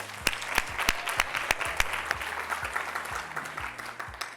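Audience applause welcoming a guest to the stage for a fireside chat at a business talk, a steady wash of many hands clapping with sharp individual claps popping through, fairly even in loudness throughout.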